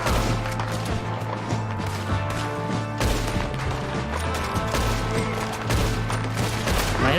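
Gunfire from the video game Red Dead Redemption 2, a loud, sustained barrage of rapid shots and cracks filling the whole stretch without pause.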